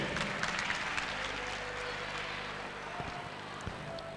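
Audience applause for a spelling bee contestant after an incorrect answer at a final in Bamako, steady dense clapping throughout, fairly loud with a faint murmur underneath.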